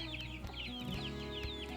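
A mother hen clucks softly and repeatedly as she heads back to the barn with her chicks, close and fairly quiet, with a few chirps mixed in.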